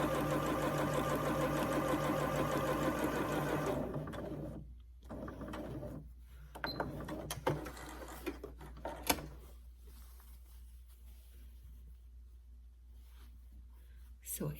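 A sewing machine runs a long straight ease stitch, whirring steadily up close for about four seconds before stopping, followed by quieter handling clicks and rustles with a voice speaking.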